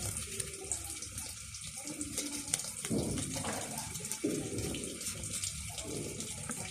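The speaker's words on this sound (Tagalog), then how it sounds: "Hindi na natin patayin yung gripo kasi ito na lang eh." Water runs from an open tap into a sink in a home, a steady close stream of splashing and gurgling with shifting flow, and no talk over it.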